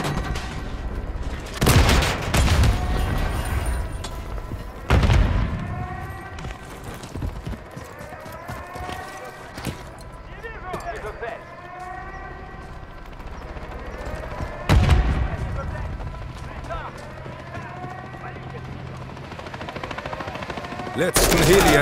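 Gunfire in the Modern Warfare 3 campaign during a fight against extraction helicopters: several loud bursts of automatic fire break out at intervals under combat noise and radio voices.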